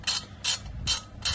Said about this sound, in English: I'm just going to tighten it down a little bit.